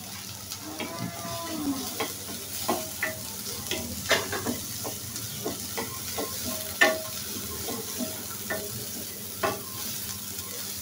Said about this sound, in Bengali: আমার কড়াইটা কিন্তু গরম হয়ে গেছে, আমি পেঁয়াজ দিয়ে নিব,